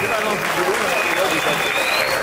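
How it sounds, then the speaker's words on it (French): Guests applaud at a civil wedding ceremony, steady continuous clapping filling the whole stretch with a faint voice murmuring underneath. "quand le couple est debout, on continue à applaudir"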